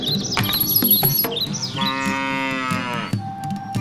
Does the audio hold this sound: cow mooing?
yes